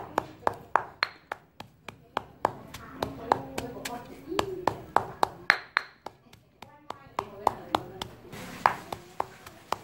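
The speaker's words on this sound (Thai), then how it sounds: "เขาจะโขกน้ำพริกให้ละเอียดที่สุดเลยนะครับ" A stone mortar pounding northern Thai chili paste for a mustard-green curry, with steady, sharp, close thuds repeating in a quick rhythm and faint voices in the background.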